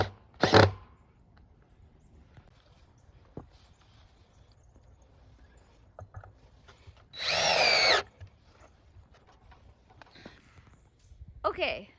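A power drill drives screws up through the brackets of a winter roost box into a house. One brief whir comes near the start, a longer buzzing run follows midway, and a short burst comes at the end, with quiet handling noises between.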